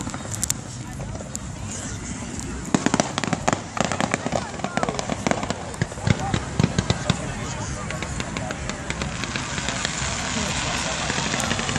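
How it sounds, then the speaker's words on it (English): Fireworks at the WEBN fireworks show burst in a rapid, continuous barrage of crackles and booms, with a loud outdoor crowd murmuring throughout. "So much fireworks, much explosion, such wow."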